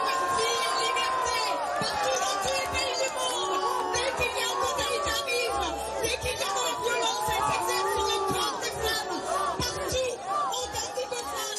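Loud crowd booing and jeering at a rally in support of Iranian women, drowning out a politician as she tries to speak; a dense, sustained wall of voices with whistles and shouts.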